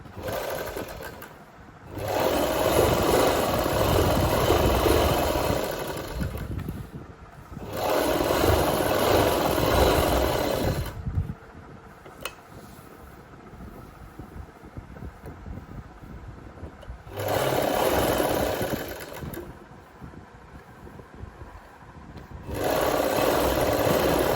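A sewing machine stitches fabric in three separate bursts of steady, close whirring, with quieter pauses between the runs.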